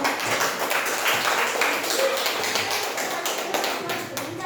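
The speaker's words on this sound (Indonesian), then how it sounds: "Kasih dulu tepuk tangan untuk mereka." A group of people in a training classroom gives a burst of applause, dense steady clapping from many hands lasting several seconds, fairly close.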